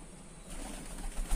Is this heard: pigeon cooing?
yes